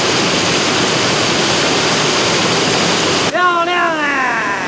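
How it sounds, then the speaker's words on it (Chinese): The second large waterfall at Niaotakeng in Nantou, at least fifty meters high, gives a loud, close, unbroken roar that cuts off abruptly near the end, when a voice is heard. "攻第二大瀑布。"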